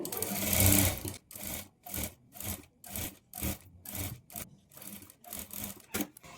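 Sewing machine stitching blouse sleeves in bursts, close and fairly quiet, with a longer run at the start followed by a steady series of short whirring runs separated by brief pauses.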